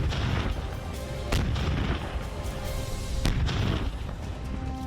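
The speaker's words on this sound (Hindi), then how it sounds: "यही वो भारी तोपें हैं जो इस वक्त यूक्रेन को किसी भी कीमत पर चाहिए।" Heavy howitzer artillery guns firing in the war in Ukraine: two sharp, loud booms roughly two seconds apart over a continuous rumbling battlefield din, with no talking.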